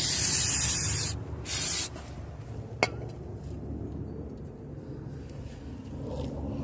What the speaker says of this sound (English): Now we have to put a spray over here.